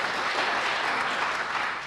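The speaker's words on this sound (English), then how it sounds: "Give yourselves a round of applause for that." A church congregation breaks into dense, sustained applause, many hands clapping together in a continuous wash that fades slightly toward the end.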